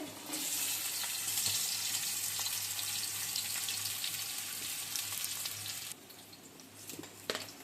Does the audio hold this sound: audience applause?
no